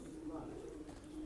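Pigeons kept by a pigeon fancier coo softly and low in the background, a faint murmuring drone under a voice.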